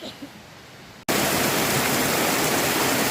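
North Cheyenne Creek rushes loudly beneath a bridge after recent rain, a dense roar that cuts in abruptly after a brief quiet moment and then holds steady.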